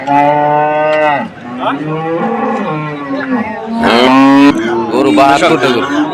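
Cattle at the Phulpur Amuyakanda cow market give loud, drawn-out moos, one after another and close by, with voices nearby.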